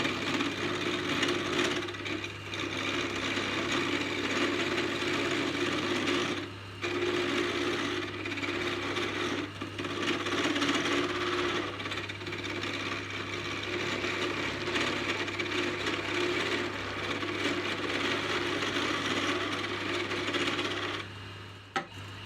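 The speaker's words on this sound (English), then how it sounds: "you've obviously popped the piece of wood onto the lathe, and I've noticed as you're doing the turning itself, you have a special way of using your tools" A wood lathe spins a piece of wood with a steady motor hum and whirring, while turning tools scrape and cut against the workpiece in uneven bursts, the sound dropping briefly now and then.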